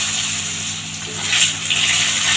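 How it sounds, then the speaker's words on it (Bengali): Potato pieces go into hot oil with a whole-spice tempering for Bengali shukto, giving a steady, loud broadband sizzle that swells slightly partway through and carries on without pause. "এবার এখানে আমি আলুটা দিয়ে দিলাম"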